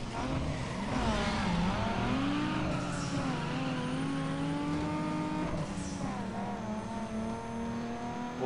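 Race car engines in Need for Speed Underground 2 rev loud and close, continuous roaring with rising and falling pitch sweeps and a brief tire-squeal flavor, no talking.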